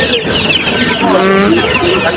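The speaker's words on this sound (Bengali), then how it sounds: "এই যে দেখেন খুবই সুন্দর সুন্দর টাইগার মুরগির বাচ্চা" Tiger chicken chicks clucking steadily at close range at a bird market, busy chatter from several birds with a murmur of people in the background.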